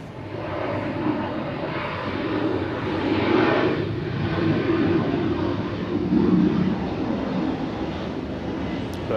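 A Boeing 717 airliner departs Atlanta for Tulsa, Oklahoma, its engines a broad steady roar at moderate distance that swells and fades slightly over the stretch.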